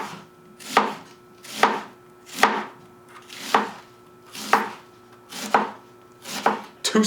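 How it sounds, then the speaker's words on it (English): An onion being sliced on a cutting board, about eight evenly spaced knife chops in a steady rhythm, close and distinct with no talking. "if I wanted to slice my onion, I could just"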